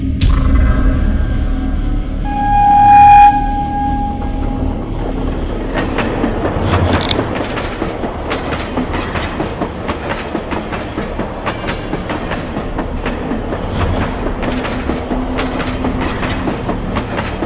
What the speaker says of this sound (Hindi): वो सोच ही रहा था कि ट्रेन प्लेटफॉर्म पर आकर धीरे धीरे रुक गई।